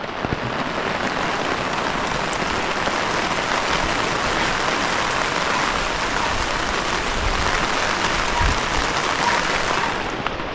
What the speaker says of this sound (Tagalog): Ay, grabe tong ulan na to.